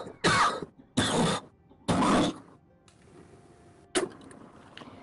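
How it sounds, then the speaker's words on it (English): Three loud, harsh coughs come in quick succession from a person close to the microphone, followed by a couple of fainter, shorter coughs after a pause. "you don't have the Discord filter to filter out my coughing"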